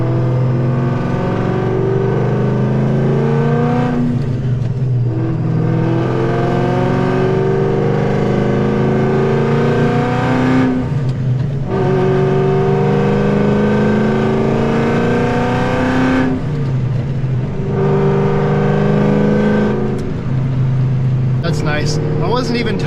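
Ford Mustang Cobra with a Borla exhaust, its V8 engine droning and revving loudly and steadily across the whole stretch, with pitch shifts as it pulls through the gears, punctuated by brief dips between shifts.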